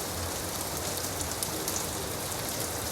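Steady rainfall, a dense, even hiss of drops pattering on surfaces that holds at a constant level throughout, with no voices.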